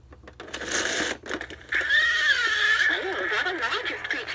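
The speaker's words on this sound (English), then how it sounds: "Check out the sound of this whale." A 1990 Mattel Mother Nature See and Say toy plays its whale sound: a brief mechanical whir, then a loud, warbling, wavering squeal much like a horse's whinny, heard close and alone.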